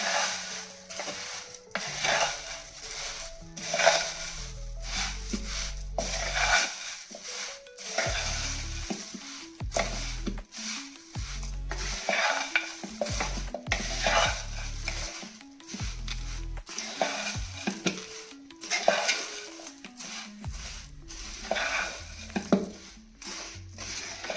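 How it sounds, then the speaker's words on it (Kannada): Tomato mixture with a squeeze of lemon is stirred and fried in a pan for an evening snack, with soft scraping and rubbing strokes coming in irregular bursts over a faint sizzle, fairly quiet and close. "ಇದನ್ನೆಲ್ಲ ಇವಾಗ ನೀಟಾಗಿ ಮಿಕ್ಸ್ ಮಾಡ್ಕೊಳ್ತಾ ಬರೋಣ"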